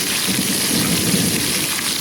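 Steady, dense rain patters close by in thundery weather, a continuous even hiss with no distinct thunderclap and no talking.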